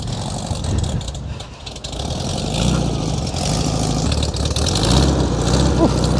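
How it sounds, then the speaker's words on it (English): A rough, steady air-cooled Volkswagen engine rumble runs throughout at moderate loudness at a car show, with faint voices murmuring in the background. "The distinct noise of an air-cooled V-dub."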